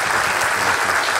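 An audience at a cartoonists' conference gives a round of applause: dense, steady clapping from a large crowd that fills the whole moment without a break.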